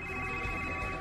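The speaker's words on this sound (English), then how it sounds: "Your Z phone is ringing." Z phone ringing in the Hannah Montana The Movie video game, a steady electronic ring tone holding a bright sustained pitch, loud and alone for a brief moment.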